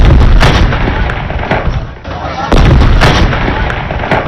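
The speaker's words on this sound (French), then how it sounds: "21 tirs de canon sont tirés pour saluer la mémoire de ce soldat loyal." Cannon salute of 21 shots fired at a state funeral in Chad, heard as a few loud, heavy booming blasts with rumbling decay and a short gap between rounds, close and dominant, with no talk.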